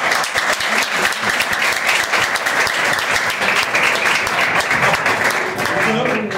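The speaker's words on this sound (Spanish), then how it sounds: "Un aplauso." A university class applauds, loud close clapping packed tightly and continuing throughout, with some voices mixed into the crowd noise.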